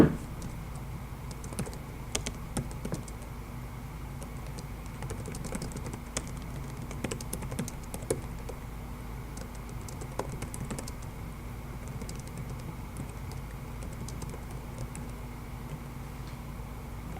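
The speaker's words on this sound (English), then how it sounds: "you're going to hit enter and then type the following sentence" Soft, quick keystrokes patter across a computer keyboard as a sentence is typed, a steady run of light clicks with small pauses, close and quiet in an otherwise still room.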